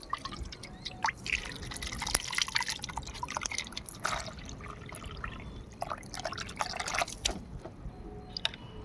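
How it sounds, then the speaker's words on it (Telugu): Water is poured and mixed into a strong homemade liquid plant fertilizer, giving close, steady dripping and trickling splashes with liquid sloshing throughout, no speech. "సో ఇలా వాటర్ కలుపుకొని"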